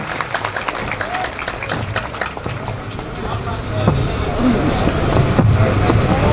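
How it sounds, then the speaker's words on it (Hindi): Applause welcoming a speaker at an employees' federation gathering in Lucknow, a steady wash of clapping from a crowd that swells toward the end, with voices and background noise mixed in. "जोरदार तालियों से स्वागत करिए"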